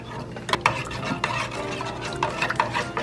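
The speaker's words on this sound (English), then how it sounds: "Now we have to mix it real good." A thickening mixture stirred in a pot while it comes toward a boil, with steady close scraping and occasional sharp clinks of the utensil against the pot, alone without talk.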